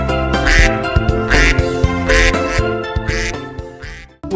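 A duck quacks repeatedly in quick, loud nasal bursts, close by, with a few sharper honks near the end and no talking.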